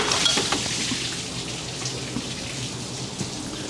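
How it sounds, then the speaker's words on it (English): Rusty water pouring freely out of a 1970 Ford Falcon engine block onto a shop floor, a steady close splashing rush running without pause. "I'm just gonna let this free spill and make a big old mess all over the shop"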